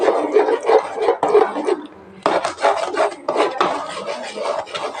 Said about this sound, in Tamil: நம்ம அடி பிடிக்காத அளவுக்கு நம்ம கிண்டி விட்டுட்டே இருக்கணுங்க